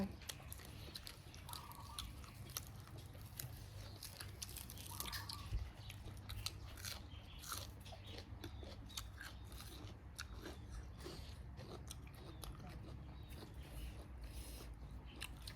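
Close-up crunchy chewing and biting of spicy green papaya salad with fermented pork sausage, steady mouth sounds with occasional louder crunches over a low background hum, no talking.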